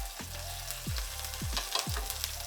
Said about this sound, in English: Fry tofu with medium heat.